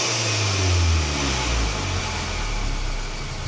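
A used Alfa Romeo Giulietta Cloverleaf runs with its exhaust close by: a low, throaty engine note swells in a brief rev, then settles back to a steady idle rumble, with no talking.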